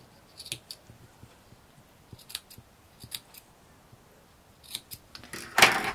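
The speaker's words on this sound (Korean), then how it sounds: "작은 곡선은 조금 더 촘촘하게 가위밥을 넣어주시면 좋아요" Sharp scissors snip notches into the curved seam allowance of fabric for a sewn scarf bib, a string of quick, quiet clips spaced irregularly, ending in a louder, denser cut.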